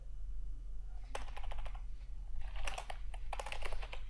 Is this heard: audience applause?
no